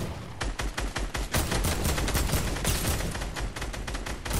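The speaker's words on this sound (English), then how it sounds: "Hit it with your SMG." SMG gunfire in the video game Fortnite: loud, fast repeated bursts of submachine-gun shots firing nearly nonstop, close and alone without talk.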